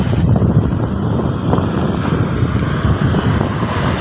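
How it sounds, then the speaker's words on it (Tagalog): Strong wind buffets the microphone outdoors at Megaworld in Iloilo City, Philippines, a loud, continuous rumbling roar with no break. "Malakas yung hangin eh."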